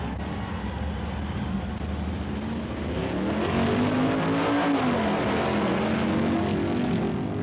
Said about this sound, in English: The Bilberry Pontiac in the near lane gets a fast hole shot and holds the early lead against the Brown Auto Sales Stalker to take a stock trophy run.